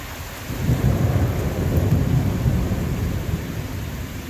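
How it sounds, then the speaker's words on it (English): Thunder rolls through a heavy rainstorm, a loud, sustained deep rumble over the steady hiss of hard-falling rain, with no voices. "there's some spooky thunder and lightning going on right now"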